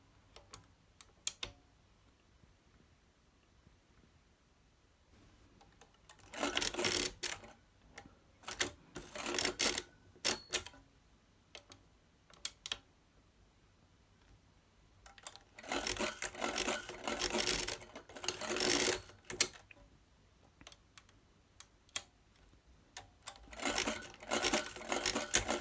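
A Soviet mechanical adding machine working through a division, its carriage shifted across, gives bursts of dense clattering ticks and ratcheting in three separate runs with quiet gaps between, close by and with no voices.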